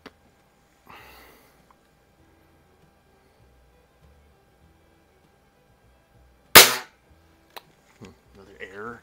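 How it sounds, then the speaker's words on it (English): An Anschutz model 335 break-barrel air rifle fires once with a loud, sharp crack in an otherwise quiet space, followed by a few faint mechanical clicks. "then we'll do a couple of trigger pulls"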